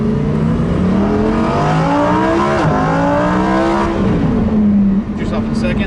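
A Lamborghini Huracán Performante accelerates hard on a race track, its engine note climbing and dropping through loud, continuous revs with a brief shift dip partway, heard close from inside the car with an instructor talking over it.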